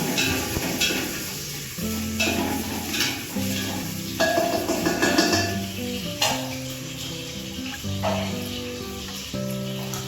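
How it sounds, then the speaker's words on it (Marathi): Chopped garlic is sautéed with onion and chilli in a pan, giving a close, steady sizzle broken by stirring strokes and light clinks of a spoon against the pan, with no voices. "कांदा मिरची टाकल्यानंतर हा चॉप केलेला लसूण टाकू. त्याला आपण थोडं परतून घेऊ."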